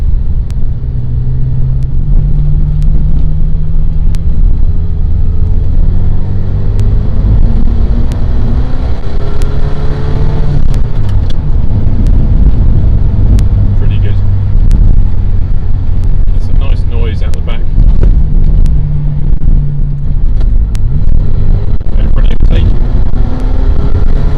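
A twenty-year-old Ferrari Mondial drives along with a loud, steady engine drone and low rumble, its pitch rising and falling in places, while people talk over it.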